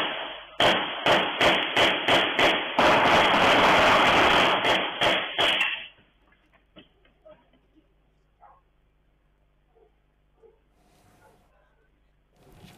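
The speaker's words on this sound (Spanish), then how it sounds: "el audio de los 20 tiros" Audio of roughly twenty gunshots fired at a city bus, heard as a loud rapid volley of sharp cracks over about five seconds, then quiet with faint scattered noises afterward.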